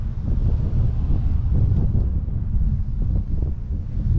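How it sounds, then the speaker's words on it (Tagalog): Strong wind roars steadily across the microphone, a constant low rumbling buffet with gusty surges throughout and no voices. "Hingal tayo kasi malakas yung hangin. Grabe yung hangin ngayon."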